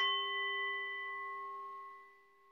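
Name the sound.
meditation bell ringing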